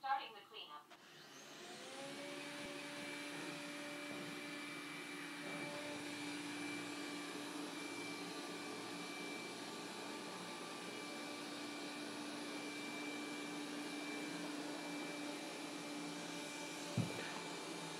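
A Xiaomi Mijia 1C robot vacuum doing a dry clean on turbo mode with no mop attached: it starts up with a click and settles into a steady loud whine and hum that holds for the whole stretch, with a brief knock near the end.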